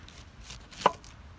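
A knife slicing through a halved cauliflower to cut steaks, soft crunching strokes leading to one sharp close chop on the board, quiet otherwise.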